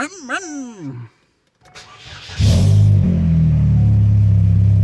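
A Chevrolet HHR fitted with a new air intake cranks and fires up after a short silence, settling into a loud, steady, throaty idle rumble close by; a voice talks briefly before the start.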